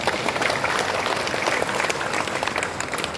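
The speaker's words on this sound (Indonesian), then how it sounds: "Tepuk tangan untuk beliau." Audience at a civil-service oath-taking ceremony in Semarang bursts into loud, sustained applause, a dense wash of clapping that stays strong throughout without talk.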